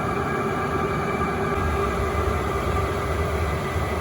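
A Chinese diesel heater running from a portable power station gives a steady, broad whooshing fan roar at close range as it powers down, with no talking over it.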